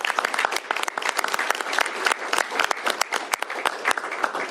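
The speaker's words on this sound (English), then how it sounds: "Please give them all a big round of applause for their hard work." A crowd at a state bill-signing ceremony applauds, producing dense, continuous clapping that stays steady and fairly loud for several seconds without any speech.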